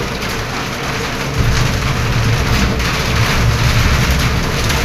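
Steady rain pouring outdoors at night, a dense, continuous hiss of drops on surfaces that swells louder after the first second and holds even with no voices.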